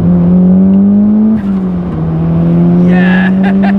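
A Ford Laser TX3 AWD turbo hatchback accelerates hard close by. A loud, steady engine tone climbs, dips briefly as the gear shifts and climbs again, with a faint whir on top.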